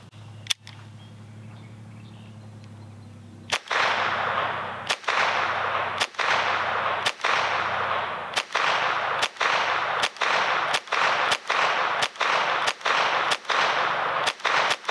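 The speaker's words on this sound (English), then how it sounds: "Let's try 15 rounds of CCI standard velocity." A Taurus TX22 semi-automatic .22 pistol firing CCI standard velocity rounds outdoors: about a dozen sharp, loud reports in a fairly steady rhythm, each with a brief decaying tail, after a short quiet lead-in with one faint click.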